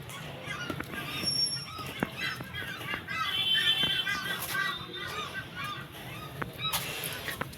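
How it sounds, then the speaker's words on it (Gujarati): Birds call again and again, loud honking squawks in uneven bursts over a steady outdoor background hiss. "તમને ખબર હોય તો કહેજો કે આ ક્યાં પક્ષી બોલે છે"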